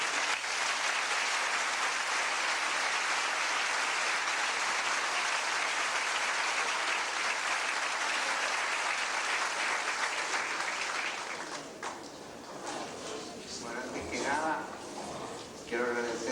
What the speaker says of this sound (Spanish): Quiero agradecer los aplausos, los regalos, las palabras.